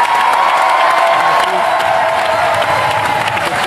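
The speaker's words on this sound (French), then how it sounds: "Je demande d'applaudir Danny Boone" Television studio audience on a French talk show applauding and cheering, loud and close, a dense roar of clapping with whoops over it, holding steady throughout.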